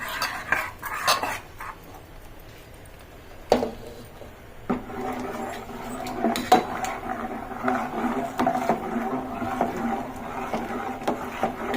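Beetroot batter is stirred in a cooking pot for vadiyalu, producing intermittent scraping and clinking of a utensil against the pot, fairly quiet and close, with irregular knocks.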